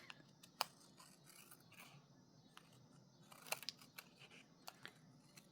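Scissors snip through paper card in a few sharp, separate cuts spread across a quiet tabletop, close and crisp with pauses between strokes; no one speaks.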